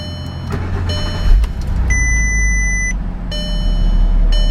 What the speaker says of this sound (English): Beautiful sounding motor